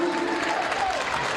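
The Sparta crowd cheers and claps at a boys basketball game, a brief, loud, continuous roar of applause under a commentator's voice.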